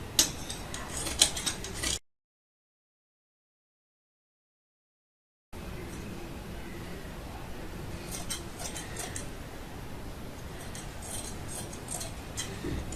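Scissors snip through cloth while cutting a sleeve for a child's frock, with faint intermittent clicking cuts close by, broken by a few seconds of dead silence.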